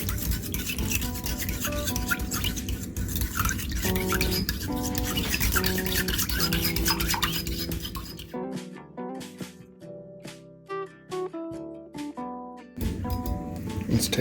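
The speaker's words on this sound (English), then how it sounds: "Grab yourself a whisk. Start off with about 2 tablespoons of the chili oil." Whisk scraping and clinking in a bowl as chili oil is whisked into a chilli lime salad dressing for a mango and fennel salad, steady and close, with music in the background and a short pause partway through.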